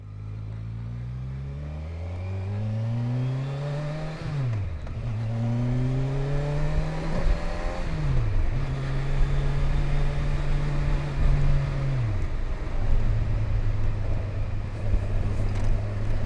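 A 2019 Kawasaki Versys 1000 SE motorcycle on a test ride accelerates repeatedly. Its engine note climbs through each gear, then drops sharply at three upshifts before settling into a steady cruising drone, loud and close, with wind rush behind.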